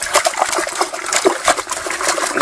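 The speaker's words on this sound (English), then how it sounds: "flip it around to where the carpet side is facing in the water, and you just rinse it back and forth like so" A gold sluice carpet is rinsed back and forth in a bucket of water, giving loud, close sloshing and splashing with rhythmic surges of water and no talking.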